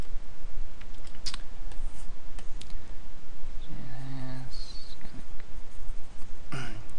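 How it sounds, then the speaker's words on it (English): Scissors snipping around shapes in a craft session, a few scattered sharp cuts with short quiet gaps, close and fairly loud, with no talking. "Cut these shapes in a little better."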